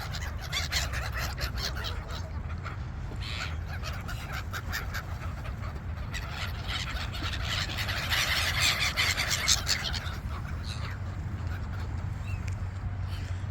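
Swimming birds calling, a dense chorus of honking and squealing cries that rises and falls in bursts over a steady low background.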